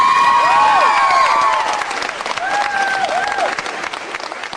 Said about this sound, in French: Sous un tonnerre d'applaudissements, je vous demande d'accueillir Maurice le poisson rouge.